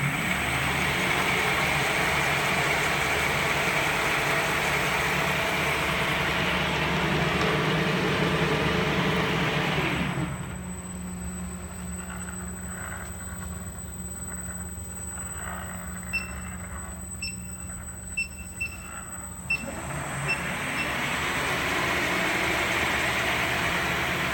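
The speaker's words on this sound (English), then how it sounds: "Now it's simulate the brake like users brake the electric skateboard." Koowheel electric skateboard motor under factory test, a loud steady electric whine and hum that drops and changes as simulated braking is applied, with faint clicks and then a return to the higher drone.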